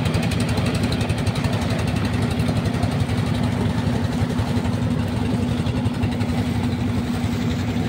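A boat engine on the river route at Bholaganj drones and chugs steadily and loudly up close, a constant low rumble with a fast even throb and no speech.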